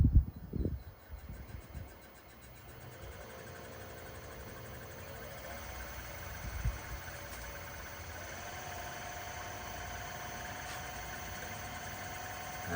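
A restored metal lathe runs at about 1200 RPM with a steady, even mechanical hum and whine that continues throughout. A few clunks come at the start, and the machine then spins alone with no talk.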